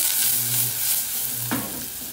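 Onions fry in a very hot pan that gets shaken, giving a steady close sizzle with low rumbling pulses from the shaking and a short scraping rush near the end.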